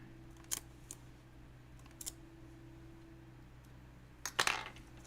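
A few crisp snips from scissors, close and fairly quiet, spaced apart over a low steady hum, with a quicker cluster of cuts at the end.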